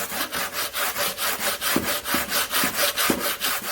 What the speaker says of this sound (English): So just get this all sanded up here